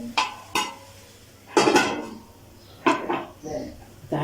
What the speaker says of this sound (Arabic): تعالوا بقى نغسل المواعين ده